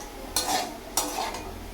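Potatoes frying in a pan for a home-cooked lunch, a steady low sizzle broken by two brisk scraping stirs of a utensil against the pan, close by.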